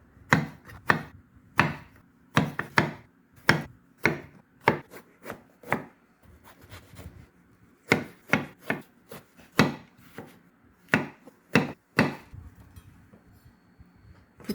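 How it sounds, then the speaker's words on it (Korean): A knife chops eggplant into roughly 7 cm lengths on a cutting board, a series of crisp, close knocks in irregular clusters with short pauses between, no speech. "크기가 크면 먹기 불편하니까 약 7cm 정도 되는 길이로 잘라주겠습니다."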